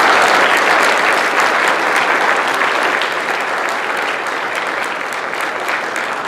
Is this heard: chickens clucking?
no